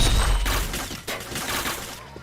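Rapid video game gunfire rattles out as a dense, loud volley of shots in a headshot-heavy shooter, with no talk over it.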